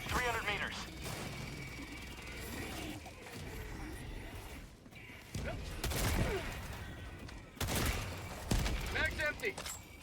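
Gunfire and explosive bursts from the Helldivers video game, with intermittent volleys and crashes over a steady game background, with a voice talking over it.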